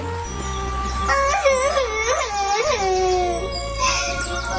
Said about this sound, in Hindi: तभी उसे किसी बच्चे की रोने की आवाज़ सुनाई देती है।